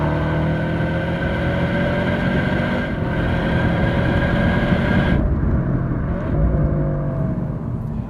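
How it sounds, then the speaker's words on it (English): A Subaru Impreza WRX STI with a 2.5-litre turbo engine pulls under load with steady rising induction and engine tone heard from inside, loud and continuous, easing off near the end. "You can actually hear some turbocharger whooshing and sneezing as well."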